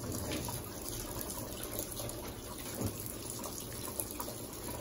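An Electrolux top-load washing machine filling with water, a continuous, fairly quiet rushing and gushing of water into the drum that holds steady throughout, with no talk.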